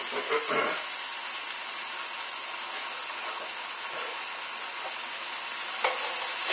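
Bacon strips frying in a skillet give off a steady, dense sizzle with fine crackle throughout, close by and even, with a few sharper pops near the start and end and no talking.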